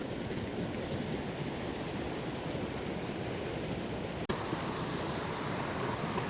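Creek water rushes steadily near a hidden waterfall, a dense, constant broadband roar close by with one brief click midway and no voices.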